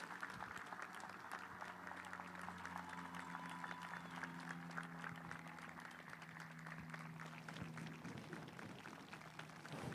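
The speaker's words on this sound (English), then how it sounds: "let us all give Ms. Nottery a round of applause" A graduation crowd at a high school ceremony applauds in a sustained, even wash of clapping, with a steady low hum running beneath it.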